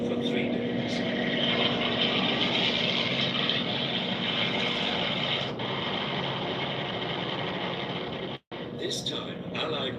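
RAF propeller aircraft engines droning steadily and loudly in wartime footage, with a continuous roar broken by a brief cut near the end.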